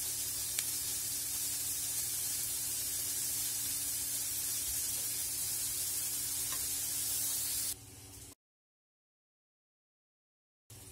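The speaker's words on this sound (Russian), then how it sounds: "жарим лук с морковью." Chopped onion and carrot frying in oil in a pan give a steady, even sizzling hiss for about eight seconds, then it cuts off into silence.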